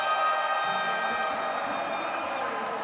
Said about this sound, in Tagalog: Listen to this crowd erupt